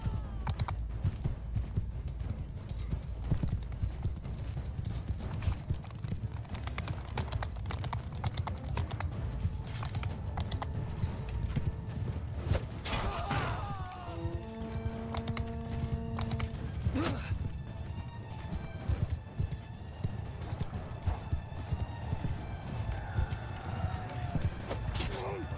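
Horse hooves clip-clop steadily through a battle in the Bannerlord video game with the Realm of Thrones mod, under a constant din of clatter and keyboard typing, with a short tonal whinny-like cry partway through and a player talking.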